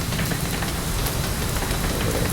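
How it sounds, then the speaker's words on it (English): Heavy rain pours in the X-Plane flight simulator around a Zibo 737, a dense, loud, unbroken hiss and patter that fills the whole stretch with no other sounds standing out. "It is really loud rain, isn't it?"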